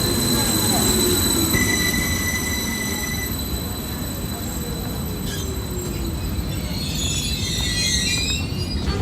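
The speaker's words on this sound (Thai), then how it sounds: "รถไฟเรามาแล้ว" A train arriving at a station in Bergen, Norway rumbles steadily close by, wheels grinding on rails with faint high metallic squeals, while indistinct voices murmur in the background.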